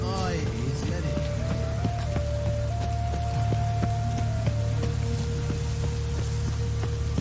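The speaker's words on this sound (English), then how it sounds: "Rain again." Rain in The Witcher 3: Wild Hunt, a steady patter of drops on surfaces with sharp droplet ticks, under game music tones and a voice talking over it.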